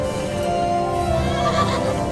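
A horse in a video game whinnies loudly with a long wavering neigh, backed by the soft clip-clop of hooves, close and clear with no talking.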